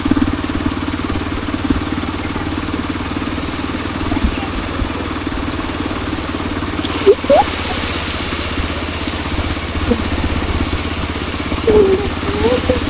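A motorcycle engine drones steadily throughout, riding along a drive-on beach at Muzhappilangad, Kerala, with constant wind rumble and a wash of open-air noise.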